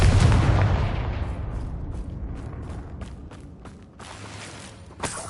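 A heavy blast from the Confringo spell in Hogwarts Legacy booms loudly at the start, then rumbles and decays over several seconds with crackling debris, ending with a smaller thud.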